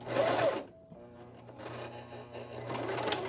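A sewing machine runs back and forth to lock a seam on a doll dress, a quick burst of close mechanical stitching that pauses briefly and then resumes.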